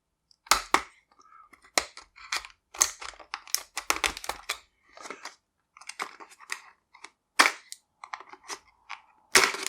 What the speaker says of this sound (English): I don't know if we'll need the super shears on this, but why not? Let's shear it out anyways